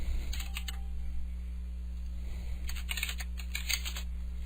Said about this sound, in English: I type Legal Aid at the command line